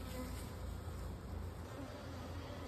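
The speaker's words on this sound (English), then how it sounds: "she has some bees in her fence" Bees nesting inside a backyard wooden fence hum in a steady, faint, continuous drone, with no voices heard.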